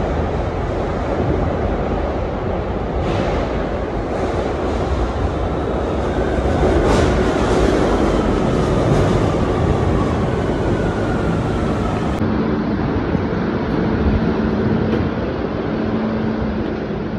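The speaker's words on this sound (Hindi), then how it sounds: "मैं अभी बार्सिलोना के मेट्रो में हूँ और ट्रेन अभी आ रही है" Constant loud roaring rumble of a Barcelona metro train arriving at a station, steady and broadband throughout with no voices.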